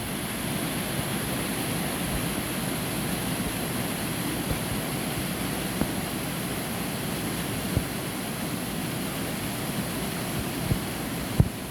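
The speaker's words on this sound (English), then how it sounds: "I'm going to just show you part of the waterfall that's coming around here" Torc Waterfall's water, heard from near a footbridge, makes a continuous, even rushing roar that stays steady and unbroken, with no voices.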